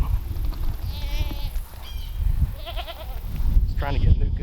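Goats bleat nearby as the buck Megatron tries to mate with the doe Nuka, with a few wavering cries rising over steady background noise and someone speaking.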